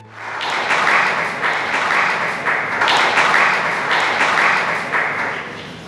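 A large audience at an evening Texas history talk breaks into steady, full applause, a dense wash of clapping that holds strong for several seconds without any voices over it.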